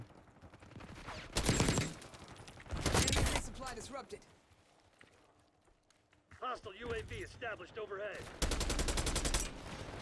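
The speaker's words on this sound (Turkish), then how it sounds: "Ben iki tane mermi atamadan adam beş tane mermi atıyor" Gunfire in the video game Call of Duty: Black Ops 6 comes in loud automatic bursts, with a pause of quieter game sounds and voice-like calls between them before a final sustained volley.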